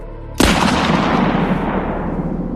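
A single loud pistol gunshot fired upward, a sharp sudden crack followed by a long rolling echo that slowly fades.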